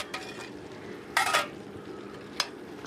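Soaked split pink and yellow lentils are stirred into a cooking pot with a soft ongoing simmer, broken by two or three brief scraping clatters of a spoon against the metal pot.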